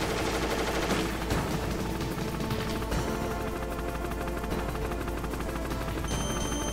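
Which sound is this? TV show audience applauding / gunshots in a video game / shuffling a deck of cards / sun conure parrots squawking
gunshots in a video game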